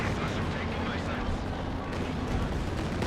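Rocket artillery from Nebelwerfer and Katyusha launchers pounds a Company of Heroes 2 battlefield, a dense continuous rumble of blasts and impacts layered with game noise, with a voice talking over it.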